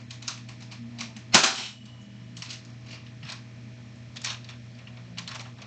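A modded Nerf blaster fires once, a sharp, loud, close snap, amid scattered light clicks and tapping of handling the blaster, with no talking.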